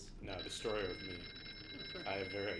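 In the horror video game Here They Lie, a telephone rings with a continuous high, trilling bell tone. It runs beneath someone talking over it.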